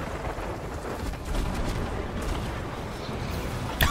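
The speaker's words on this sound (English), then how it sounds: "he shoots so many cannons" Cannon fire in the pirate video game Sea of Thieves comes as a dense, rolling barrage of muffled booms at moderate level, with no speech over it.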